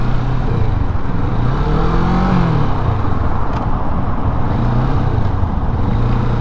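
Kawasaki Vulcan S cruiser motorcycle being ridden at low speed, around ten miles an hour, a loud steady engine drone with wind rumble and slight pitch shifts, continuous throughout with no talking.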